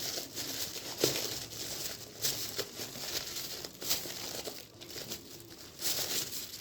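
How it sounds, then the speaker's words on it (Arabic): A plastic bag is gathered and closed with a hair elastic, giving close, continuous crinkling and rustling with small irregular crackles throughout. "هتجيبي الكيس كده وتضميه وتجيبي توكه بنتك او اي استك، حتى استك فلوس، وتبداي تقفلي الكيس كده بيه"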